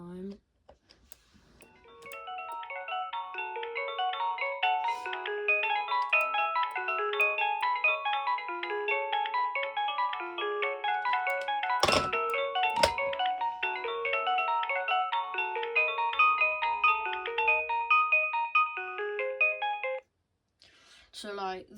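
A Philips DECT 511 cordless phone handset plays its electronic ringtone, a bright repeating melody that runs for about eighteen seconds and then stops. Two handling clicks break through midway and a voice speaks briefly at the very end.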